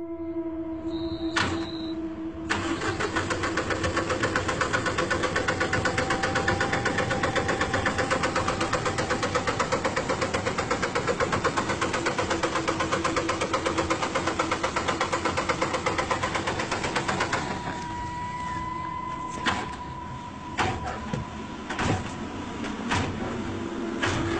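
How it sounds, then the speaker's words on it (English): A large bus engine cranks with a rapid, continuous rattling drone for about fifteen seconds without starting, then cuts off, followed by scattered clunks and a faint tone. "we can clearly hear someone or something trying to turn the engine on"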